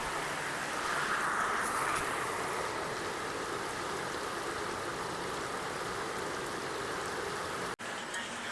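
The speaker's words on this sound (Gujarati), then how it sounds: "જોરદાર વરસાદ પડે છે મિત્રો. ના પૂછો વાત મુસળાધાર વરસાદ." Torrential monsoon rain pours down in a steady, dense wash of noise that holds loud and unbroken throughout, with a brief cutout near the end.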